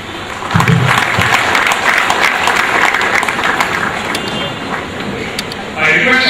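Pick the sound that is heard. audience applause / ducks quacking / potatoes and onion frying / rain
audience applause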